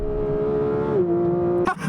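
A 2025 Porsche 911 GT3 of the 992.2 generation drives past or along with its engine holding a steady high-pitched tone that dips slightly at about a second, then ends with a sharp burst of noise. It is loud, close and continuous.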